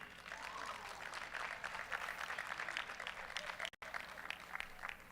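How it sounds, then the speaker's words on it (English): An audience at a USA Powerlifting competition claps steadily for a lifter, a dense, sustained round of applause with a brief dropout near the end. "A big round of applause."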